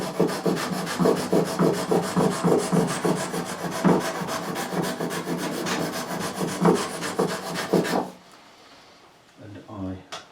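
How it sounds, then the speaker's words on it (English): Sandpaper rubbed back and forth across the frets of an Epiphone AJ220 acoustic guitar, a quick rhythmic rasping of steady strokes for about eight seconds, then it stops and a few soft handling knocks follow. "I'm going to hit it again with this sandpaper."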